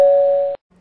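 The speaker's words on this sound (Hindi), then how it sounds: "ये लोग कोई आ गया, बजती है दरवाजे की घंटी।" Single electronic doorbell chime at home, one sustained bright tone ringing loudly for about half a second before cutting off sharply.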